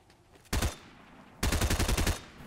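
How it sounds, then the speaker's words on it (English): Gunfire in the video game Fortnite: one short burst, a pause, then a rapid volley of about seven shots, sharp and fairly close, with no talking. "Gunshots."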